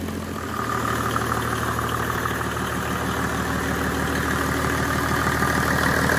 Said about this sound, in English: Perfectly smooth idle, beautifully phased and calibrated